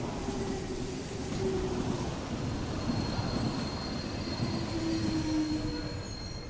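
A train rolls steadily through the game Investigator, a dense continuous rumble with faint wheel squeals riding on top, loud and close for the whole stretch with no talk.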